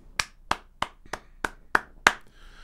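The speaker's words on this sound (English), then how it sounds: "Who am I applauding for?" Seven sharp hand claps at a steady, slightly slowing rhythm, loud and close, each ringing briefly in a quiet space, at a Miami Dolphins training camp.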